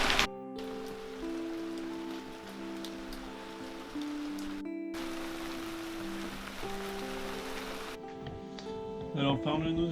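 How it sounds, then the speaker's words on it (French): Rain pattering on a sailing catamaran, a steady close hiss of drops on the deck and canopy that runs throughout, with a sustained musical tone drifting above it. "Et évidemment, il pleut aujourd'hui."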